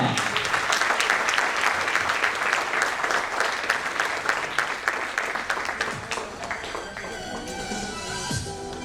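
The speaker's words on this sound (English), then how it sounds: "big round of applause and let's welcome our chairman, Mr. Chetan Bhutta" Dense audience applause welcoming the chairman at a company annual event, a continuous loud wash of clapping that thins and fades toward the end, with faint voices underneath.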